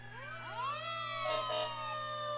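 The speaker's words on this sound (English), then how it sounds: "They love to have that opportunity to run the sirens there" A fire truck siren from the West Plains Fire Department wails during a parade, its rising and falling tones sweeping upward and holding, fairly loud and alone over a steady low hum.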